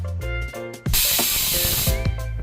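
A pressure cooker cooking a kharvas mixture lets out its whistle as a loud, close rush of hissing steam that bursts in suddenly and holds steady, with a thin whistling tone riding on it.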